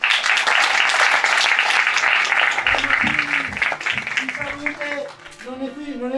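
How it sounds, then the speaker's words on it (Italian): Crowd applause at the opening of the 70th historic Castellamonte carnival, a dense clapping wash under someone talking on a microphone, fading as he continues. "Purtroppo Francesca Curcio, che io gli farei un applauso."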